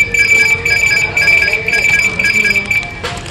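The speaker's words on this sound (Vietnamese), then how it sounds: "Khi xe khóa báo động thì bất cứ ai chạm vào xe hoặc là dắt xe đi," Anti-theft alarm of a 2020 Vespa Napoli S LED electric scooter, loud and close, sounding as a steady high electronic tone pulsing in a rapid repeating pattern throughout.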